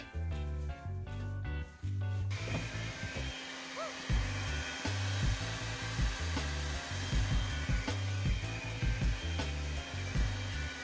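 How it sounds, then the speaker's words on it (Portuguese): A hair dryer blows steadily with a loud, continuous whooshing hum, starting abruptly after a couple of seconds of music. "para poder fazer passar o secador"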